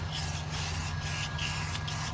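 A spray can coats car wheel rims being repaired for curb rash, giving a steady, soft hissing spray with several short pauses as the nozzle is released and pressed again, fairly quiet and close.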